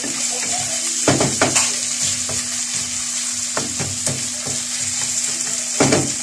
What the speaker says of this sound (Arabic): غادي نزيد عليها الطريفه ديال الدجاج ديال السدر، غير طريف صغير هكا قطعته رقيق، وغادي نديرو باش يتشحر حتى هو شويه مع البصله